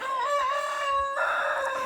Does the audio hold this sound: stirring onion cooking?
no